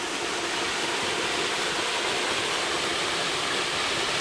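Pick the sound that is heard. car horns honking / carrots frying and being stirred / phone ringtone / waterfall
waterfall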